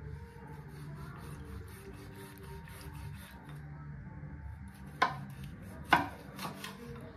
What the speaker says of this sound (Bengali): এবার পিস পিস করে নেব।